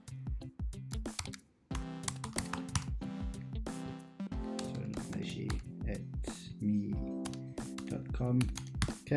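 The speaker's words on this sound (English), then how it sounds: "I'm going to type in my email address" Someone types an email address on a computer keyboard, producing quick, close key clicks that run under a talking voice for most of the stretch.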